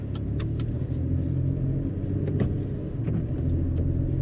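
A 2016 Chevy Colorado pickup truck rolling along in four-wheel drive high on a slippery winter road, steady low engine rumble from inside the cab with occasional light clicks and thumps over the drone.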